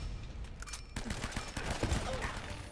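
Rapid bursts of cover fire in the video game Uncharted: Drake's Fortune, dense overlapping gunshots after a short lull, with someone talking over the clatter.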